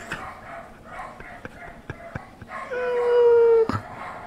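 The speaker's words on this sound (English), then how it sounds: "I don't know what's going on with those dogs in the background there" Dogs bark and howl in the distance, a few scattered barks followed by a drawn-out rising howl that rings above the background noise.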